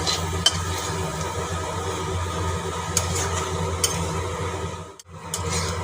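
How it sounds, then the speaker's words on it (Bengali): Diced ridge gourd stir-frying in a pan, a steady sizzle with scraping stirs and a few sharp utensil clicks, dipping briefly near the end before resuming. "ঝিঙেটা ভালো করে কষিয়ে নিচ্ছি ঝিঙেটা কিন্তু একটু ভালো করেই কষিয়ে নিতে হবে"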